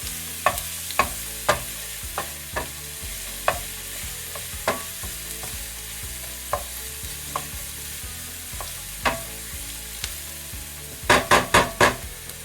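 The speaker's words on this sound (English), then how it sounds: "We're going to saute this for a little bit before we put in our ground meat" Onion sautéing in olive oil in a pan, a soft steady sizzle punctuated by regular spoon taps and scrapes against the pan, ending in a quick burst of four sharp knocks, no talk.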